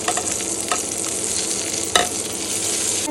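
Chopped onion and green chili frying in oil with black cumin and whole cumin, a steady close sizzle with a few scraping stirs, one sharper clack near the end, no voices.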